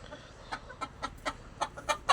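Chickens cluck in a home-built coop on a small farm, a series of short, fairly faint calls spaced about a quarter second apart that grow slightly louder toward the end, over a low steady background.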